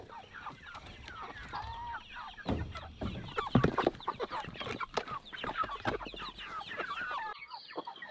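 A flock of Cornish cross chickens clucking and squawking nearby, busy overlapping calls with some louder bursts, no talking.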